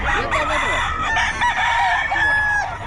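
A Sweater breed gamefowl rooster crows close and loud, a drawn-out cock-a-doodle-doo with clucking and people talking in the background.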